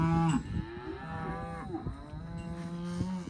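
Cows and yearlings of a calving herd mooing loudly and close, several long drawn-out moos overlapping one after another.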